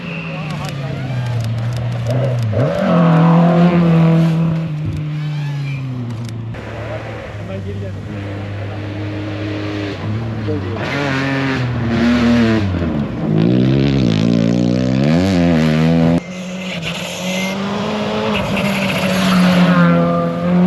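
Rally car on a dusty gravel stage of the 2024 Istanbul Rally, Turkish Rally Championship, engine roaring loudly nearby with rising and falling revs, tyres skidding and crowd talk and shouting running over it throughout.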